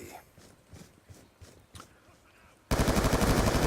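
Gunfire in Black Ops 2 starts as faint, spaced shots, then a loud, rapid burst of automatic fire abruptly takes over and continues to the end.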